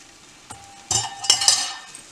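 Boiled, drained green beans are stirred through a thickening sauce for green bean casserole, giving a few soft wet scrapes and clinks of a utensil against the pan amid quiet sizzling.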